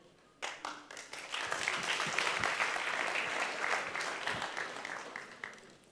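An audience applauds at a council meeting in Budapest, a dense wash of hand claps that breaks out suddenly and holds steady before tapering slightly near the end, with no voices over it.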